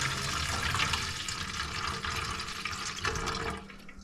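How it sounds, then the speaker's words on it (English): Sugar cane juice pours from a heavy pot through cheesecloth, a loud continuous splashing gush close by that tapers slightly toward the end, with no talking. "we're just gonna ease it through that old cheesecloth"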